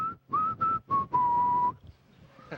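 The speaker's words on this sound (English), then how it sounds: "Now Ron's got a whistle." A whistle sounds aboard the Atlantis space shuttle: a few short high blasts followed by one longer sustained tone, clear and close, then a faint trailing note.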